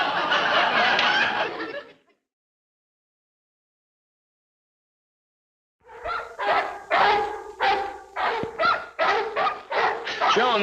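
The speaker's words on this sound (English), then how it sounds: "If those dogs keep barking, we'll never be able to get any sleep." Neighbours' dogs bark in a rapid string of sharp, close yaps after a pause of silence, preceded by a burst of noisy chatter or laughter.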